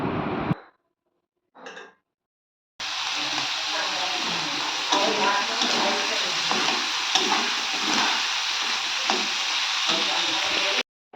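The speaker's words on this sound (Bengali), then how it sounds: "আর এখানে যে চিংড়ি মাছটা ছিল তো সেটা ভেজে নেব।" Shrimp frying in hot oil in a home kitchen, a steady loud sizzle with stirring after brief silences at the start.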